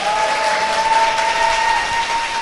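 Steady applause from a seated audience at a Korean political talk show taping, a dense, even wash of clapping held at full level, with a faint tonal hum running beneath it.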